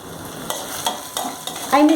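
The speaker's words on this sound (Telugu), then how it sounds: "అందులోనే కట్ చేసి పెట్టుకున్న అల్లం ముక్కలు ఫ్రై చేసేసుకుందాం." Ginger pieces fry in hot oil, with a soft continuous sizzle and a few stirring scrapes and clinks of a spoon in the pan over two seconds.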